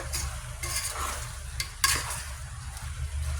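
Pork adobo sautéing in soy sauce: a continuous close sizzle with intermittent scraping and stirring strokes of a utensil against the pan, one sharper clink midway, no talking.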